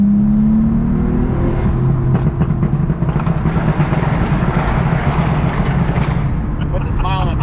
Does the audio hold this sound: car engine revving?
yes